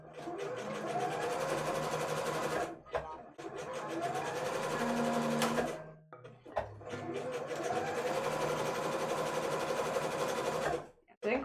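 Sewing machine running a dense zigzag stitch over elastic, three long continuous bursts of steady mechanical whirring separated by brief pauses, close and loud.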